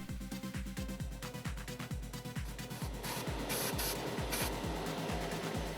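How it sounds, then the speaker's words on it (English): An Aztek airbrush spraying enamel paint onto a 1/35 scale Bronco Staghound model gives a steady hiss over a rapid, regular low pulsing, and the spray noise grows brighter and airier partway through. "the Aztek was splattering a bit"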